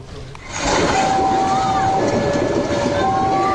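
The Ranggajati train passes the Curah Tulis level crossing in Probolinggo, East Java. A heavy rail rumble swells loud after a quiet start, with sustained horn tones sounding over the roar.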